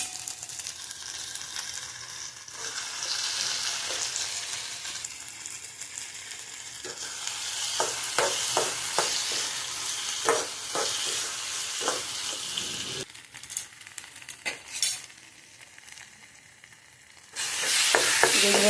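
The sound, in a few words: spices frying and being stirred in oil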